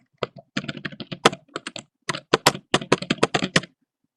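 Someone types a name on a computer keyboard, producing quick irregular bursts of close, crisp keystrokes with short pauses between them and no talking.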